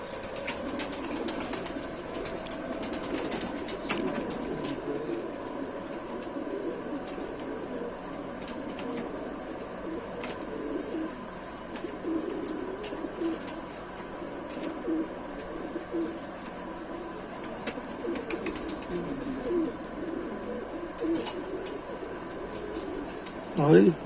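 Pigeons, including a pink-headed male and a female, coo softly and flutter their wings now and then, low steady murmuring with occasional brief flaps and clicks, as someone talks over them throughout.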